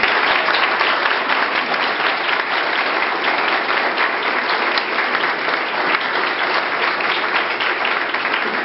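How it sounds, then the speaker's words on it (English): Wedding guests give a long round of applause for current and former military members who are standing. The clapping is dense and continuous, loud and even from start to finish, with no talk over it. "So I'd ask everyone else to please give them a round of applause."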